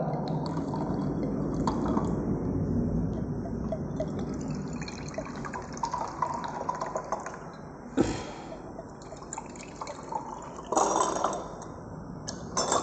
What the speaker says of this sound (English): In all the 3 beakers, we are going to pour 100 ml of water.